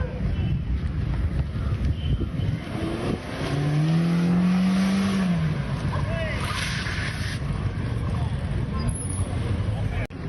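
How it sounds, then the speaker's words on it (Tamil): A car speeding at high speed along the Marina road in Chennai, heard as a steady loud roar with wind noise and a rising-falling engine tone in the middle, with some talk over it. "அதிவேகத்தில் பறந்த கார் போலீசாருக்கு டிமிக்கி கொடுத்து சென்றது"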